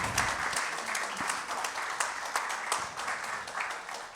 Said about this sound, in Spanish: Vamos a darle un fuerte aplauso a Mariana y a Ruth.